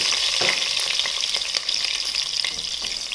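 Mustard seeds, curry leaves and chopped onion frying in hot oil give a loud, steady sizzle with crackling pops, close up and continuous throughout, with no voices.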